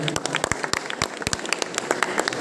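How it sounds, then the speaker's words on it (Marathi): Audience at a painting exhibition event in Ner, Yavatmal, clapping in a short burst of brisk applause, the claps close and overlapping. "एकदा जोरदार टाळ्या उठवल्या"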